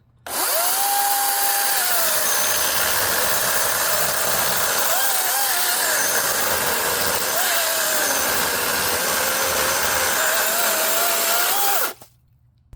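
A DeWalt 60V brushless battery chainsaw whirs at high speed, pitch dipping repeatedly as the chain bites into wood, then stops abruptly.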